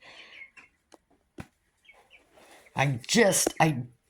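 Pullets and cockerels in a farm pen cluck in short, scattered calls, faint at first and then louder in a busy burst near the end, with a person talking briefly among them.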